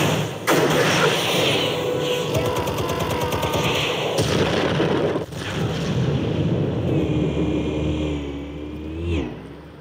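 Gunfire and explosives in Batman: The Telltale Series ring out as a loud, dense barrage of rapid shots and booming blasts, sustained and close, ending in a rising whine.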